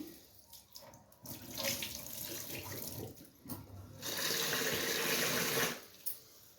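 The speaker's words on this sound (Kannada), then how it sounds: "ಅಕ್ಕಿ 2-3 ಸಲ ತೊಳ್ಕೊಳಕತ್ತೀನಿ." Rice rinsed in water in a kitchen sink while cooking pulao, with running tap water and swishing splashes in uneven bursts, nearby and fairly quiet, with short pauses between washes.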